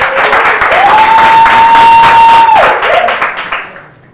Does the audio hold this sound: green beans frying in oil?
no